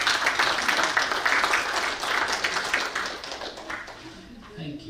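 An audience applauds after a talk by Steve Semken of Ice Cube Press, with dense, sustained clapping close by that thins out toward the end.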